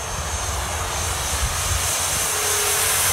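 An E-flite Turbo Timber Evolution 1.5m RC plane running on a 3S battery throttles up. Its electric motor and propeller give a loud, steady drone that holds throughout with no talking.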